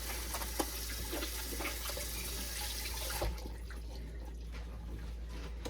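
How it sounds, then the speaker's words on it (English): A kitchen tap runs as hands are rinsed under it, giving a steady close splash of water that thins and quiets partway through. "I'm going to give my hands a quick little wash."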